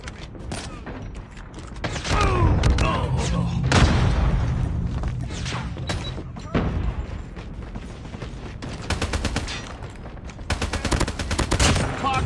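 In a multiplayer shooter video game, a grenade booms amid bursts of rapid gunfire and sharp shots in repeated volleys. Voices call out in the background.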